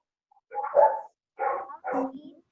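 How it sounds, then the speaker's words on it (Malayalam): A dog gives three short, sharp barks close by, with brief gaps between them and no other sound. "Dog is barking now."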